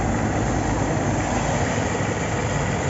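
A Renault Megane 2 car's 1.6-litre naturally aspirated petrol engine idles steadily close by in cold weather, a constant even rumble with no change in pace and no talking.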